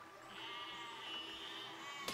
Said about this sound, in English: Oh god, I'm killing the sheep without even meaning to.